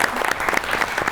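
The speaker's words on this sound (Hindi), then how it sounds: "बहुत सी ताली होनी चाहिए बराबर के लिए।" A studio audience bursts into dense, steady applause during a comedy talk-show interview, with the crowded clapping loud and continuous throughout the short moment.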